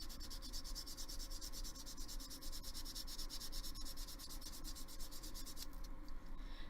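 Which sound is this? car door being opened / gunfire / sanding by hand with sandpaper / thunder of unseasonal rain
sanding by hand with sandpaper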